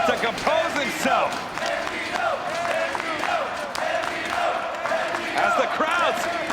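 A wrestling crowd in San Antonio cheers and chants for Bandido, a loud, steady roar of voices with rhythmic shouts, while a commentator talks over it.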